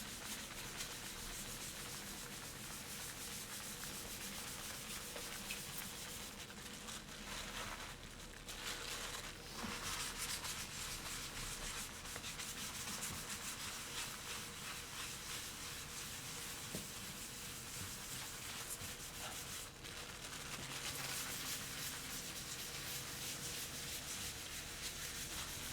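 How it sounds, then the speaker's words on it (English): Tadelakt lime plaster being buffed in small circles with a sponge wrapped in plastic, giving a steady, close, continuous rubbing and scuffing that runs the whole time with slight swells and no talk. "take our sponge, cover it with a piece of plastic. Okay. Small circles and buff it out."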